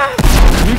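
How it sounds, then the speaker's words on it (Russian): A sudden, loud explosion in the video game Battlefield Hardline erupts with a heavy low rumble that lingers and rolls on for most of the moment, after a brief quieter lead-in. "Ух, нихера себе, что за взрывы там дают."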